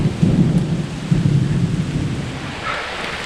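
Heavy rain falls with rumbling thunder during a walk toward a village near Chiang Mai, a loud, steady downpour wash with low rolling booms.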